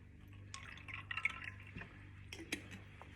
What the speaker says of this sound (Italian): Infine potete decidere se mettere la soda